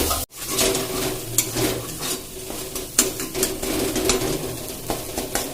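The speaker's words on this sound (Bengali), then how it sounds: "তো ডিম দুটো আমি কুচি কুচি করে ভেজে নিলাম।" Two eggs frying in oil in a pan, chopped up as they cook, with a continuous sizzle and repeated scraping clinks of a spatula stirring against the metal, close and steady with no talking.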